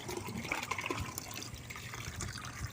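Water poured from a vessel during household washing, a faint continuous splashing trickle heard close with no talk over it.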